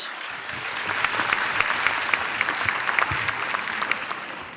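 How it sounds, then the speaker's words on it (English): A crowd applauds steadily at a world conference, dense clapping filling the room at an even level for several seconds. "A big round of applause, everyone"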